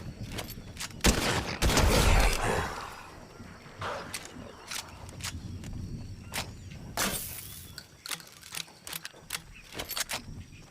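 Dragon's Breath shotgun blasts in Fortnite, a series of sharp booming shots scattered over several seconds with clinking and clattering game noise in between, fairly close and with no talk.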